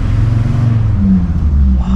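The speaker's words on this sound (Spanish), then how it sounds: "Sí, claro, ese es el tubo de escape." A camper van's engine and exhaust fitted with a new silencer, a deep, loud rumbling drone close by that rises slightly as it revs, without talking over it.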